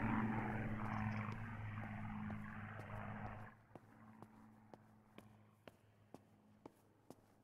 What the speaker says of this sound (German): Okay, Flugzeuge.